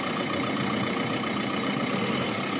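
Car engine running steadily near idle during a variable-geometry turbo actuator test, with a constant broadband hum and a light, barely rising rev throughout, alone without talk.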